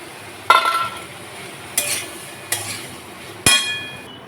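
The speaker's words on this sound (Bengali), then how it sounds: "কুমড়োটা ভেজে ভেজে নিচ্ছি, কুমড়োটা একটু ভাজা ভাজা হয়ে গেছে" Pumpkin and potato for a tiffin curry fry in a pan under a steady soft sizzle, broken by four sharp scrapes and clinks of a spatula stirring, close and fairly loud.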